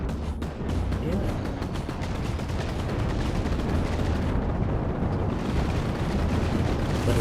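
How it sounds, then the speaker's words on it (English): A ship's chain gun in the space game Cosmoteer fires amid a dense, continuous roar of rapid shots and booming impacts that stays loud and steady throughout, with no clear talk. "Is that a single chain gun on it?"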